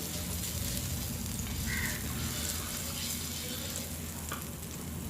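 Butter sizzling on a pan or dosa tawa while making bread pizza, a continuous close hiss and crackle with no talk.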